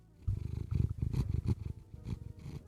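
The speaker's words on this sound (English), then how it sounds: "Is her purring picking up?" A cat sitting on a desk purrs close to the microphone in a steady, rhythmic rumble with regular pulses over nearly three seconds, with no voices.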